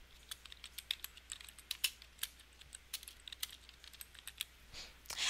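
Fingers type a name on a computer keyboard, irregular close key clicks in quick bursts with short pauses, no talking.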